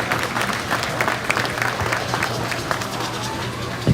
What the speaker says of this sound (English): let's go ahead and give both these young ladies an awesome big round of applause